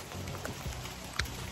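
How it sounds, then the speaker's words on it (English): Hail falling outdoors in Glendale, a steady patter of small ice pellets striking the ground, with a few louder hits standing out near the end. "Ow! Okay, that's hail."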